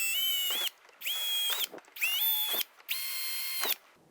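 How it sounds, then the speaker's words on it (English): A power drill whines in four short bursts with brief pauses between, drilling holes in a plastic front lower grille of a Chevrolet Sonic, each spin rising and settling at a high, steady pitch, close by. "we're going to drill all of the holes for the license plate bracket"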